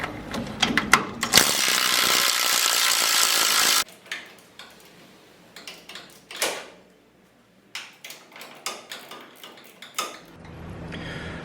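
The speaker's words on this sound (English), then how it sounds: "Get a long pry bar or a long piece of pipe, stick it in there like that, pull it down" Metal clanks, scrapes and knocks as a long pry bar levers a square-body truck's lower control arm down, with a loud sustained grinding burst early on and scattered close clunks afterward.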